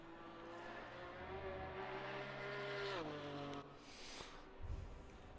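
A GT4 race car at Oulton Park circuit heard from outside, its engine drone rising and then dropping in pitch as it passes at a distance, fairly faint and steady with no talk.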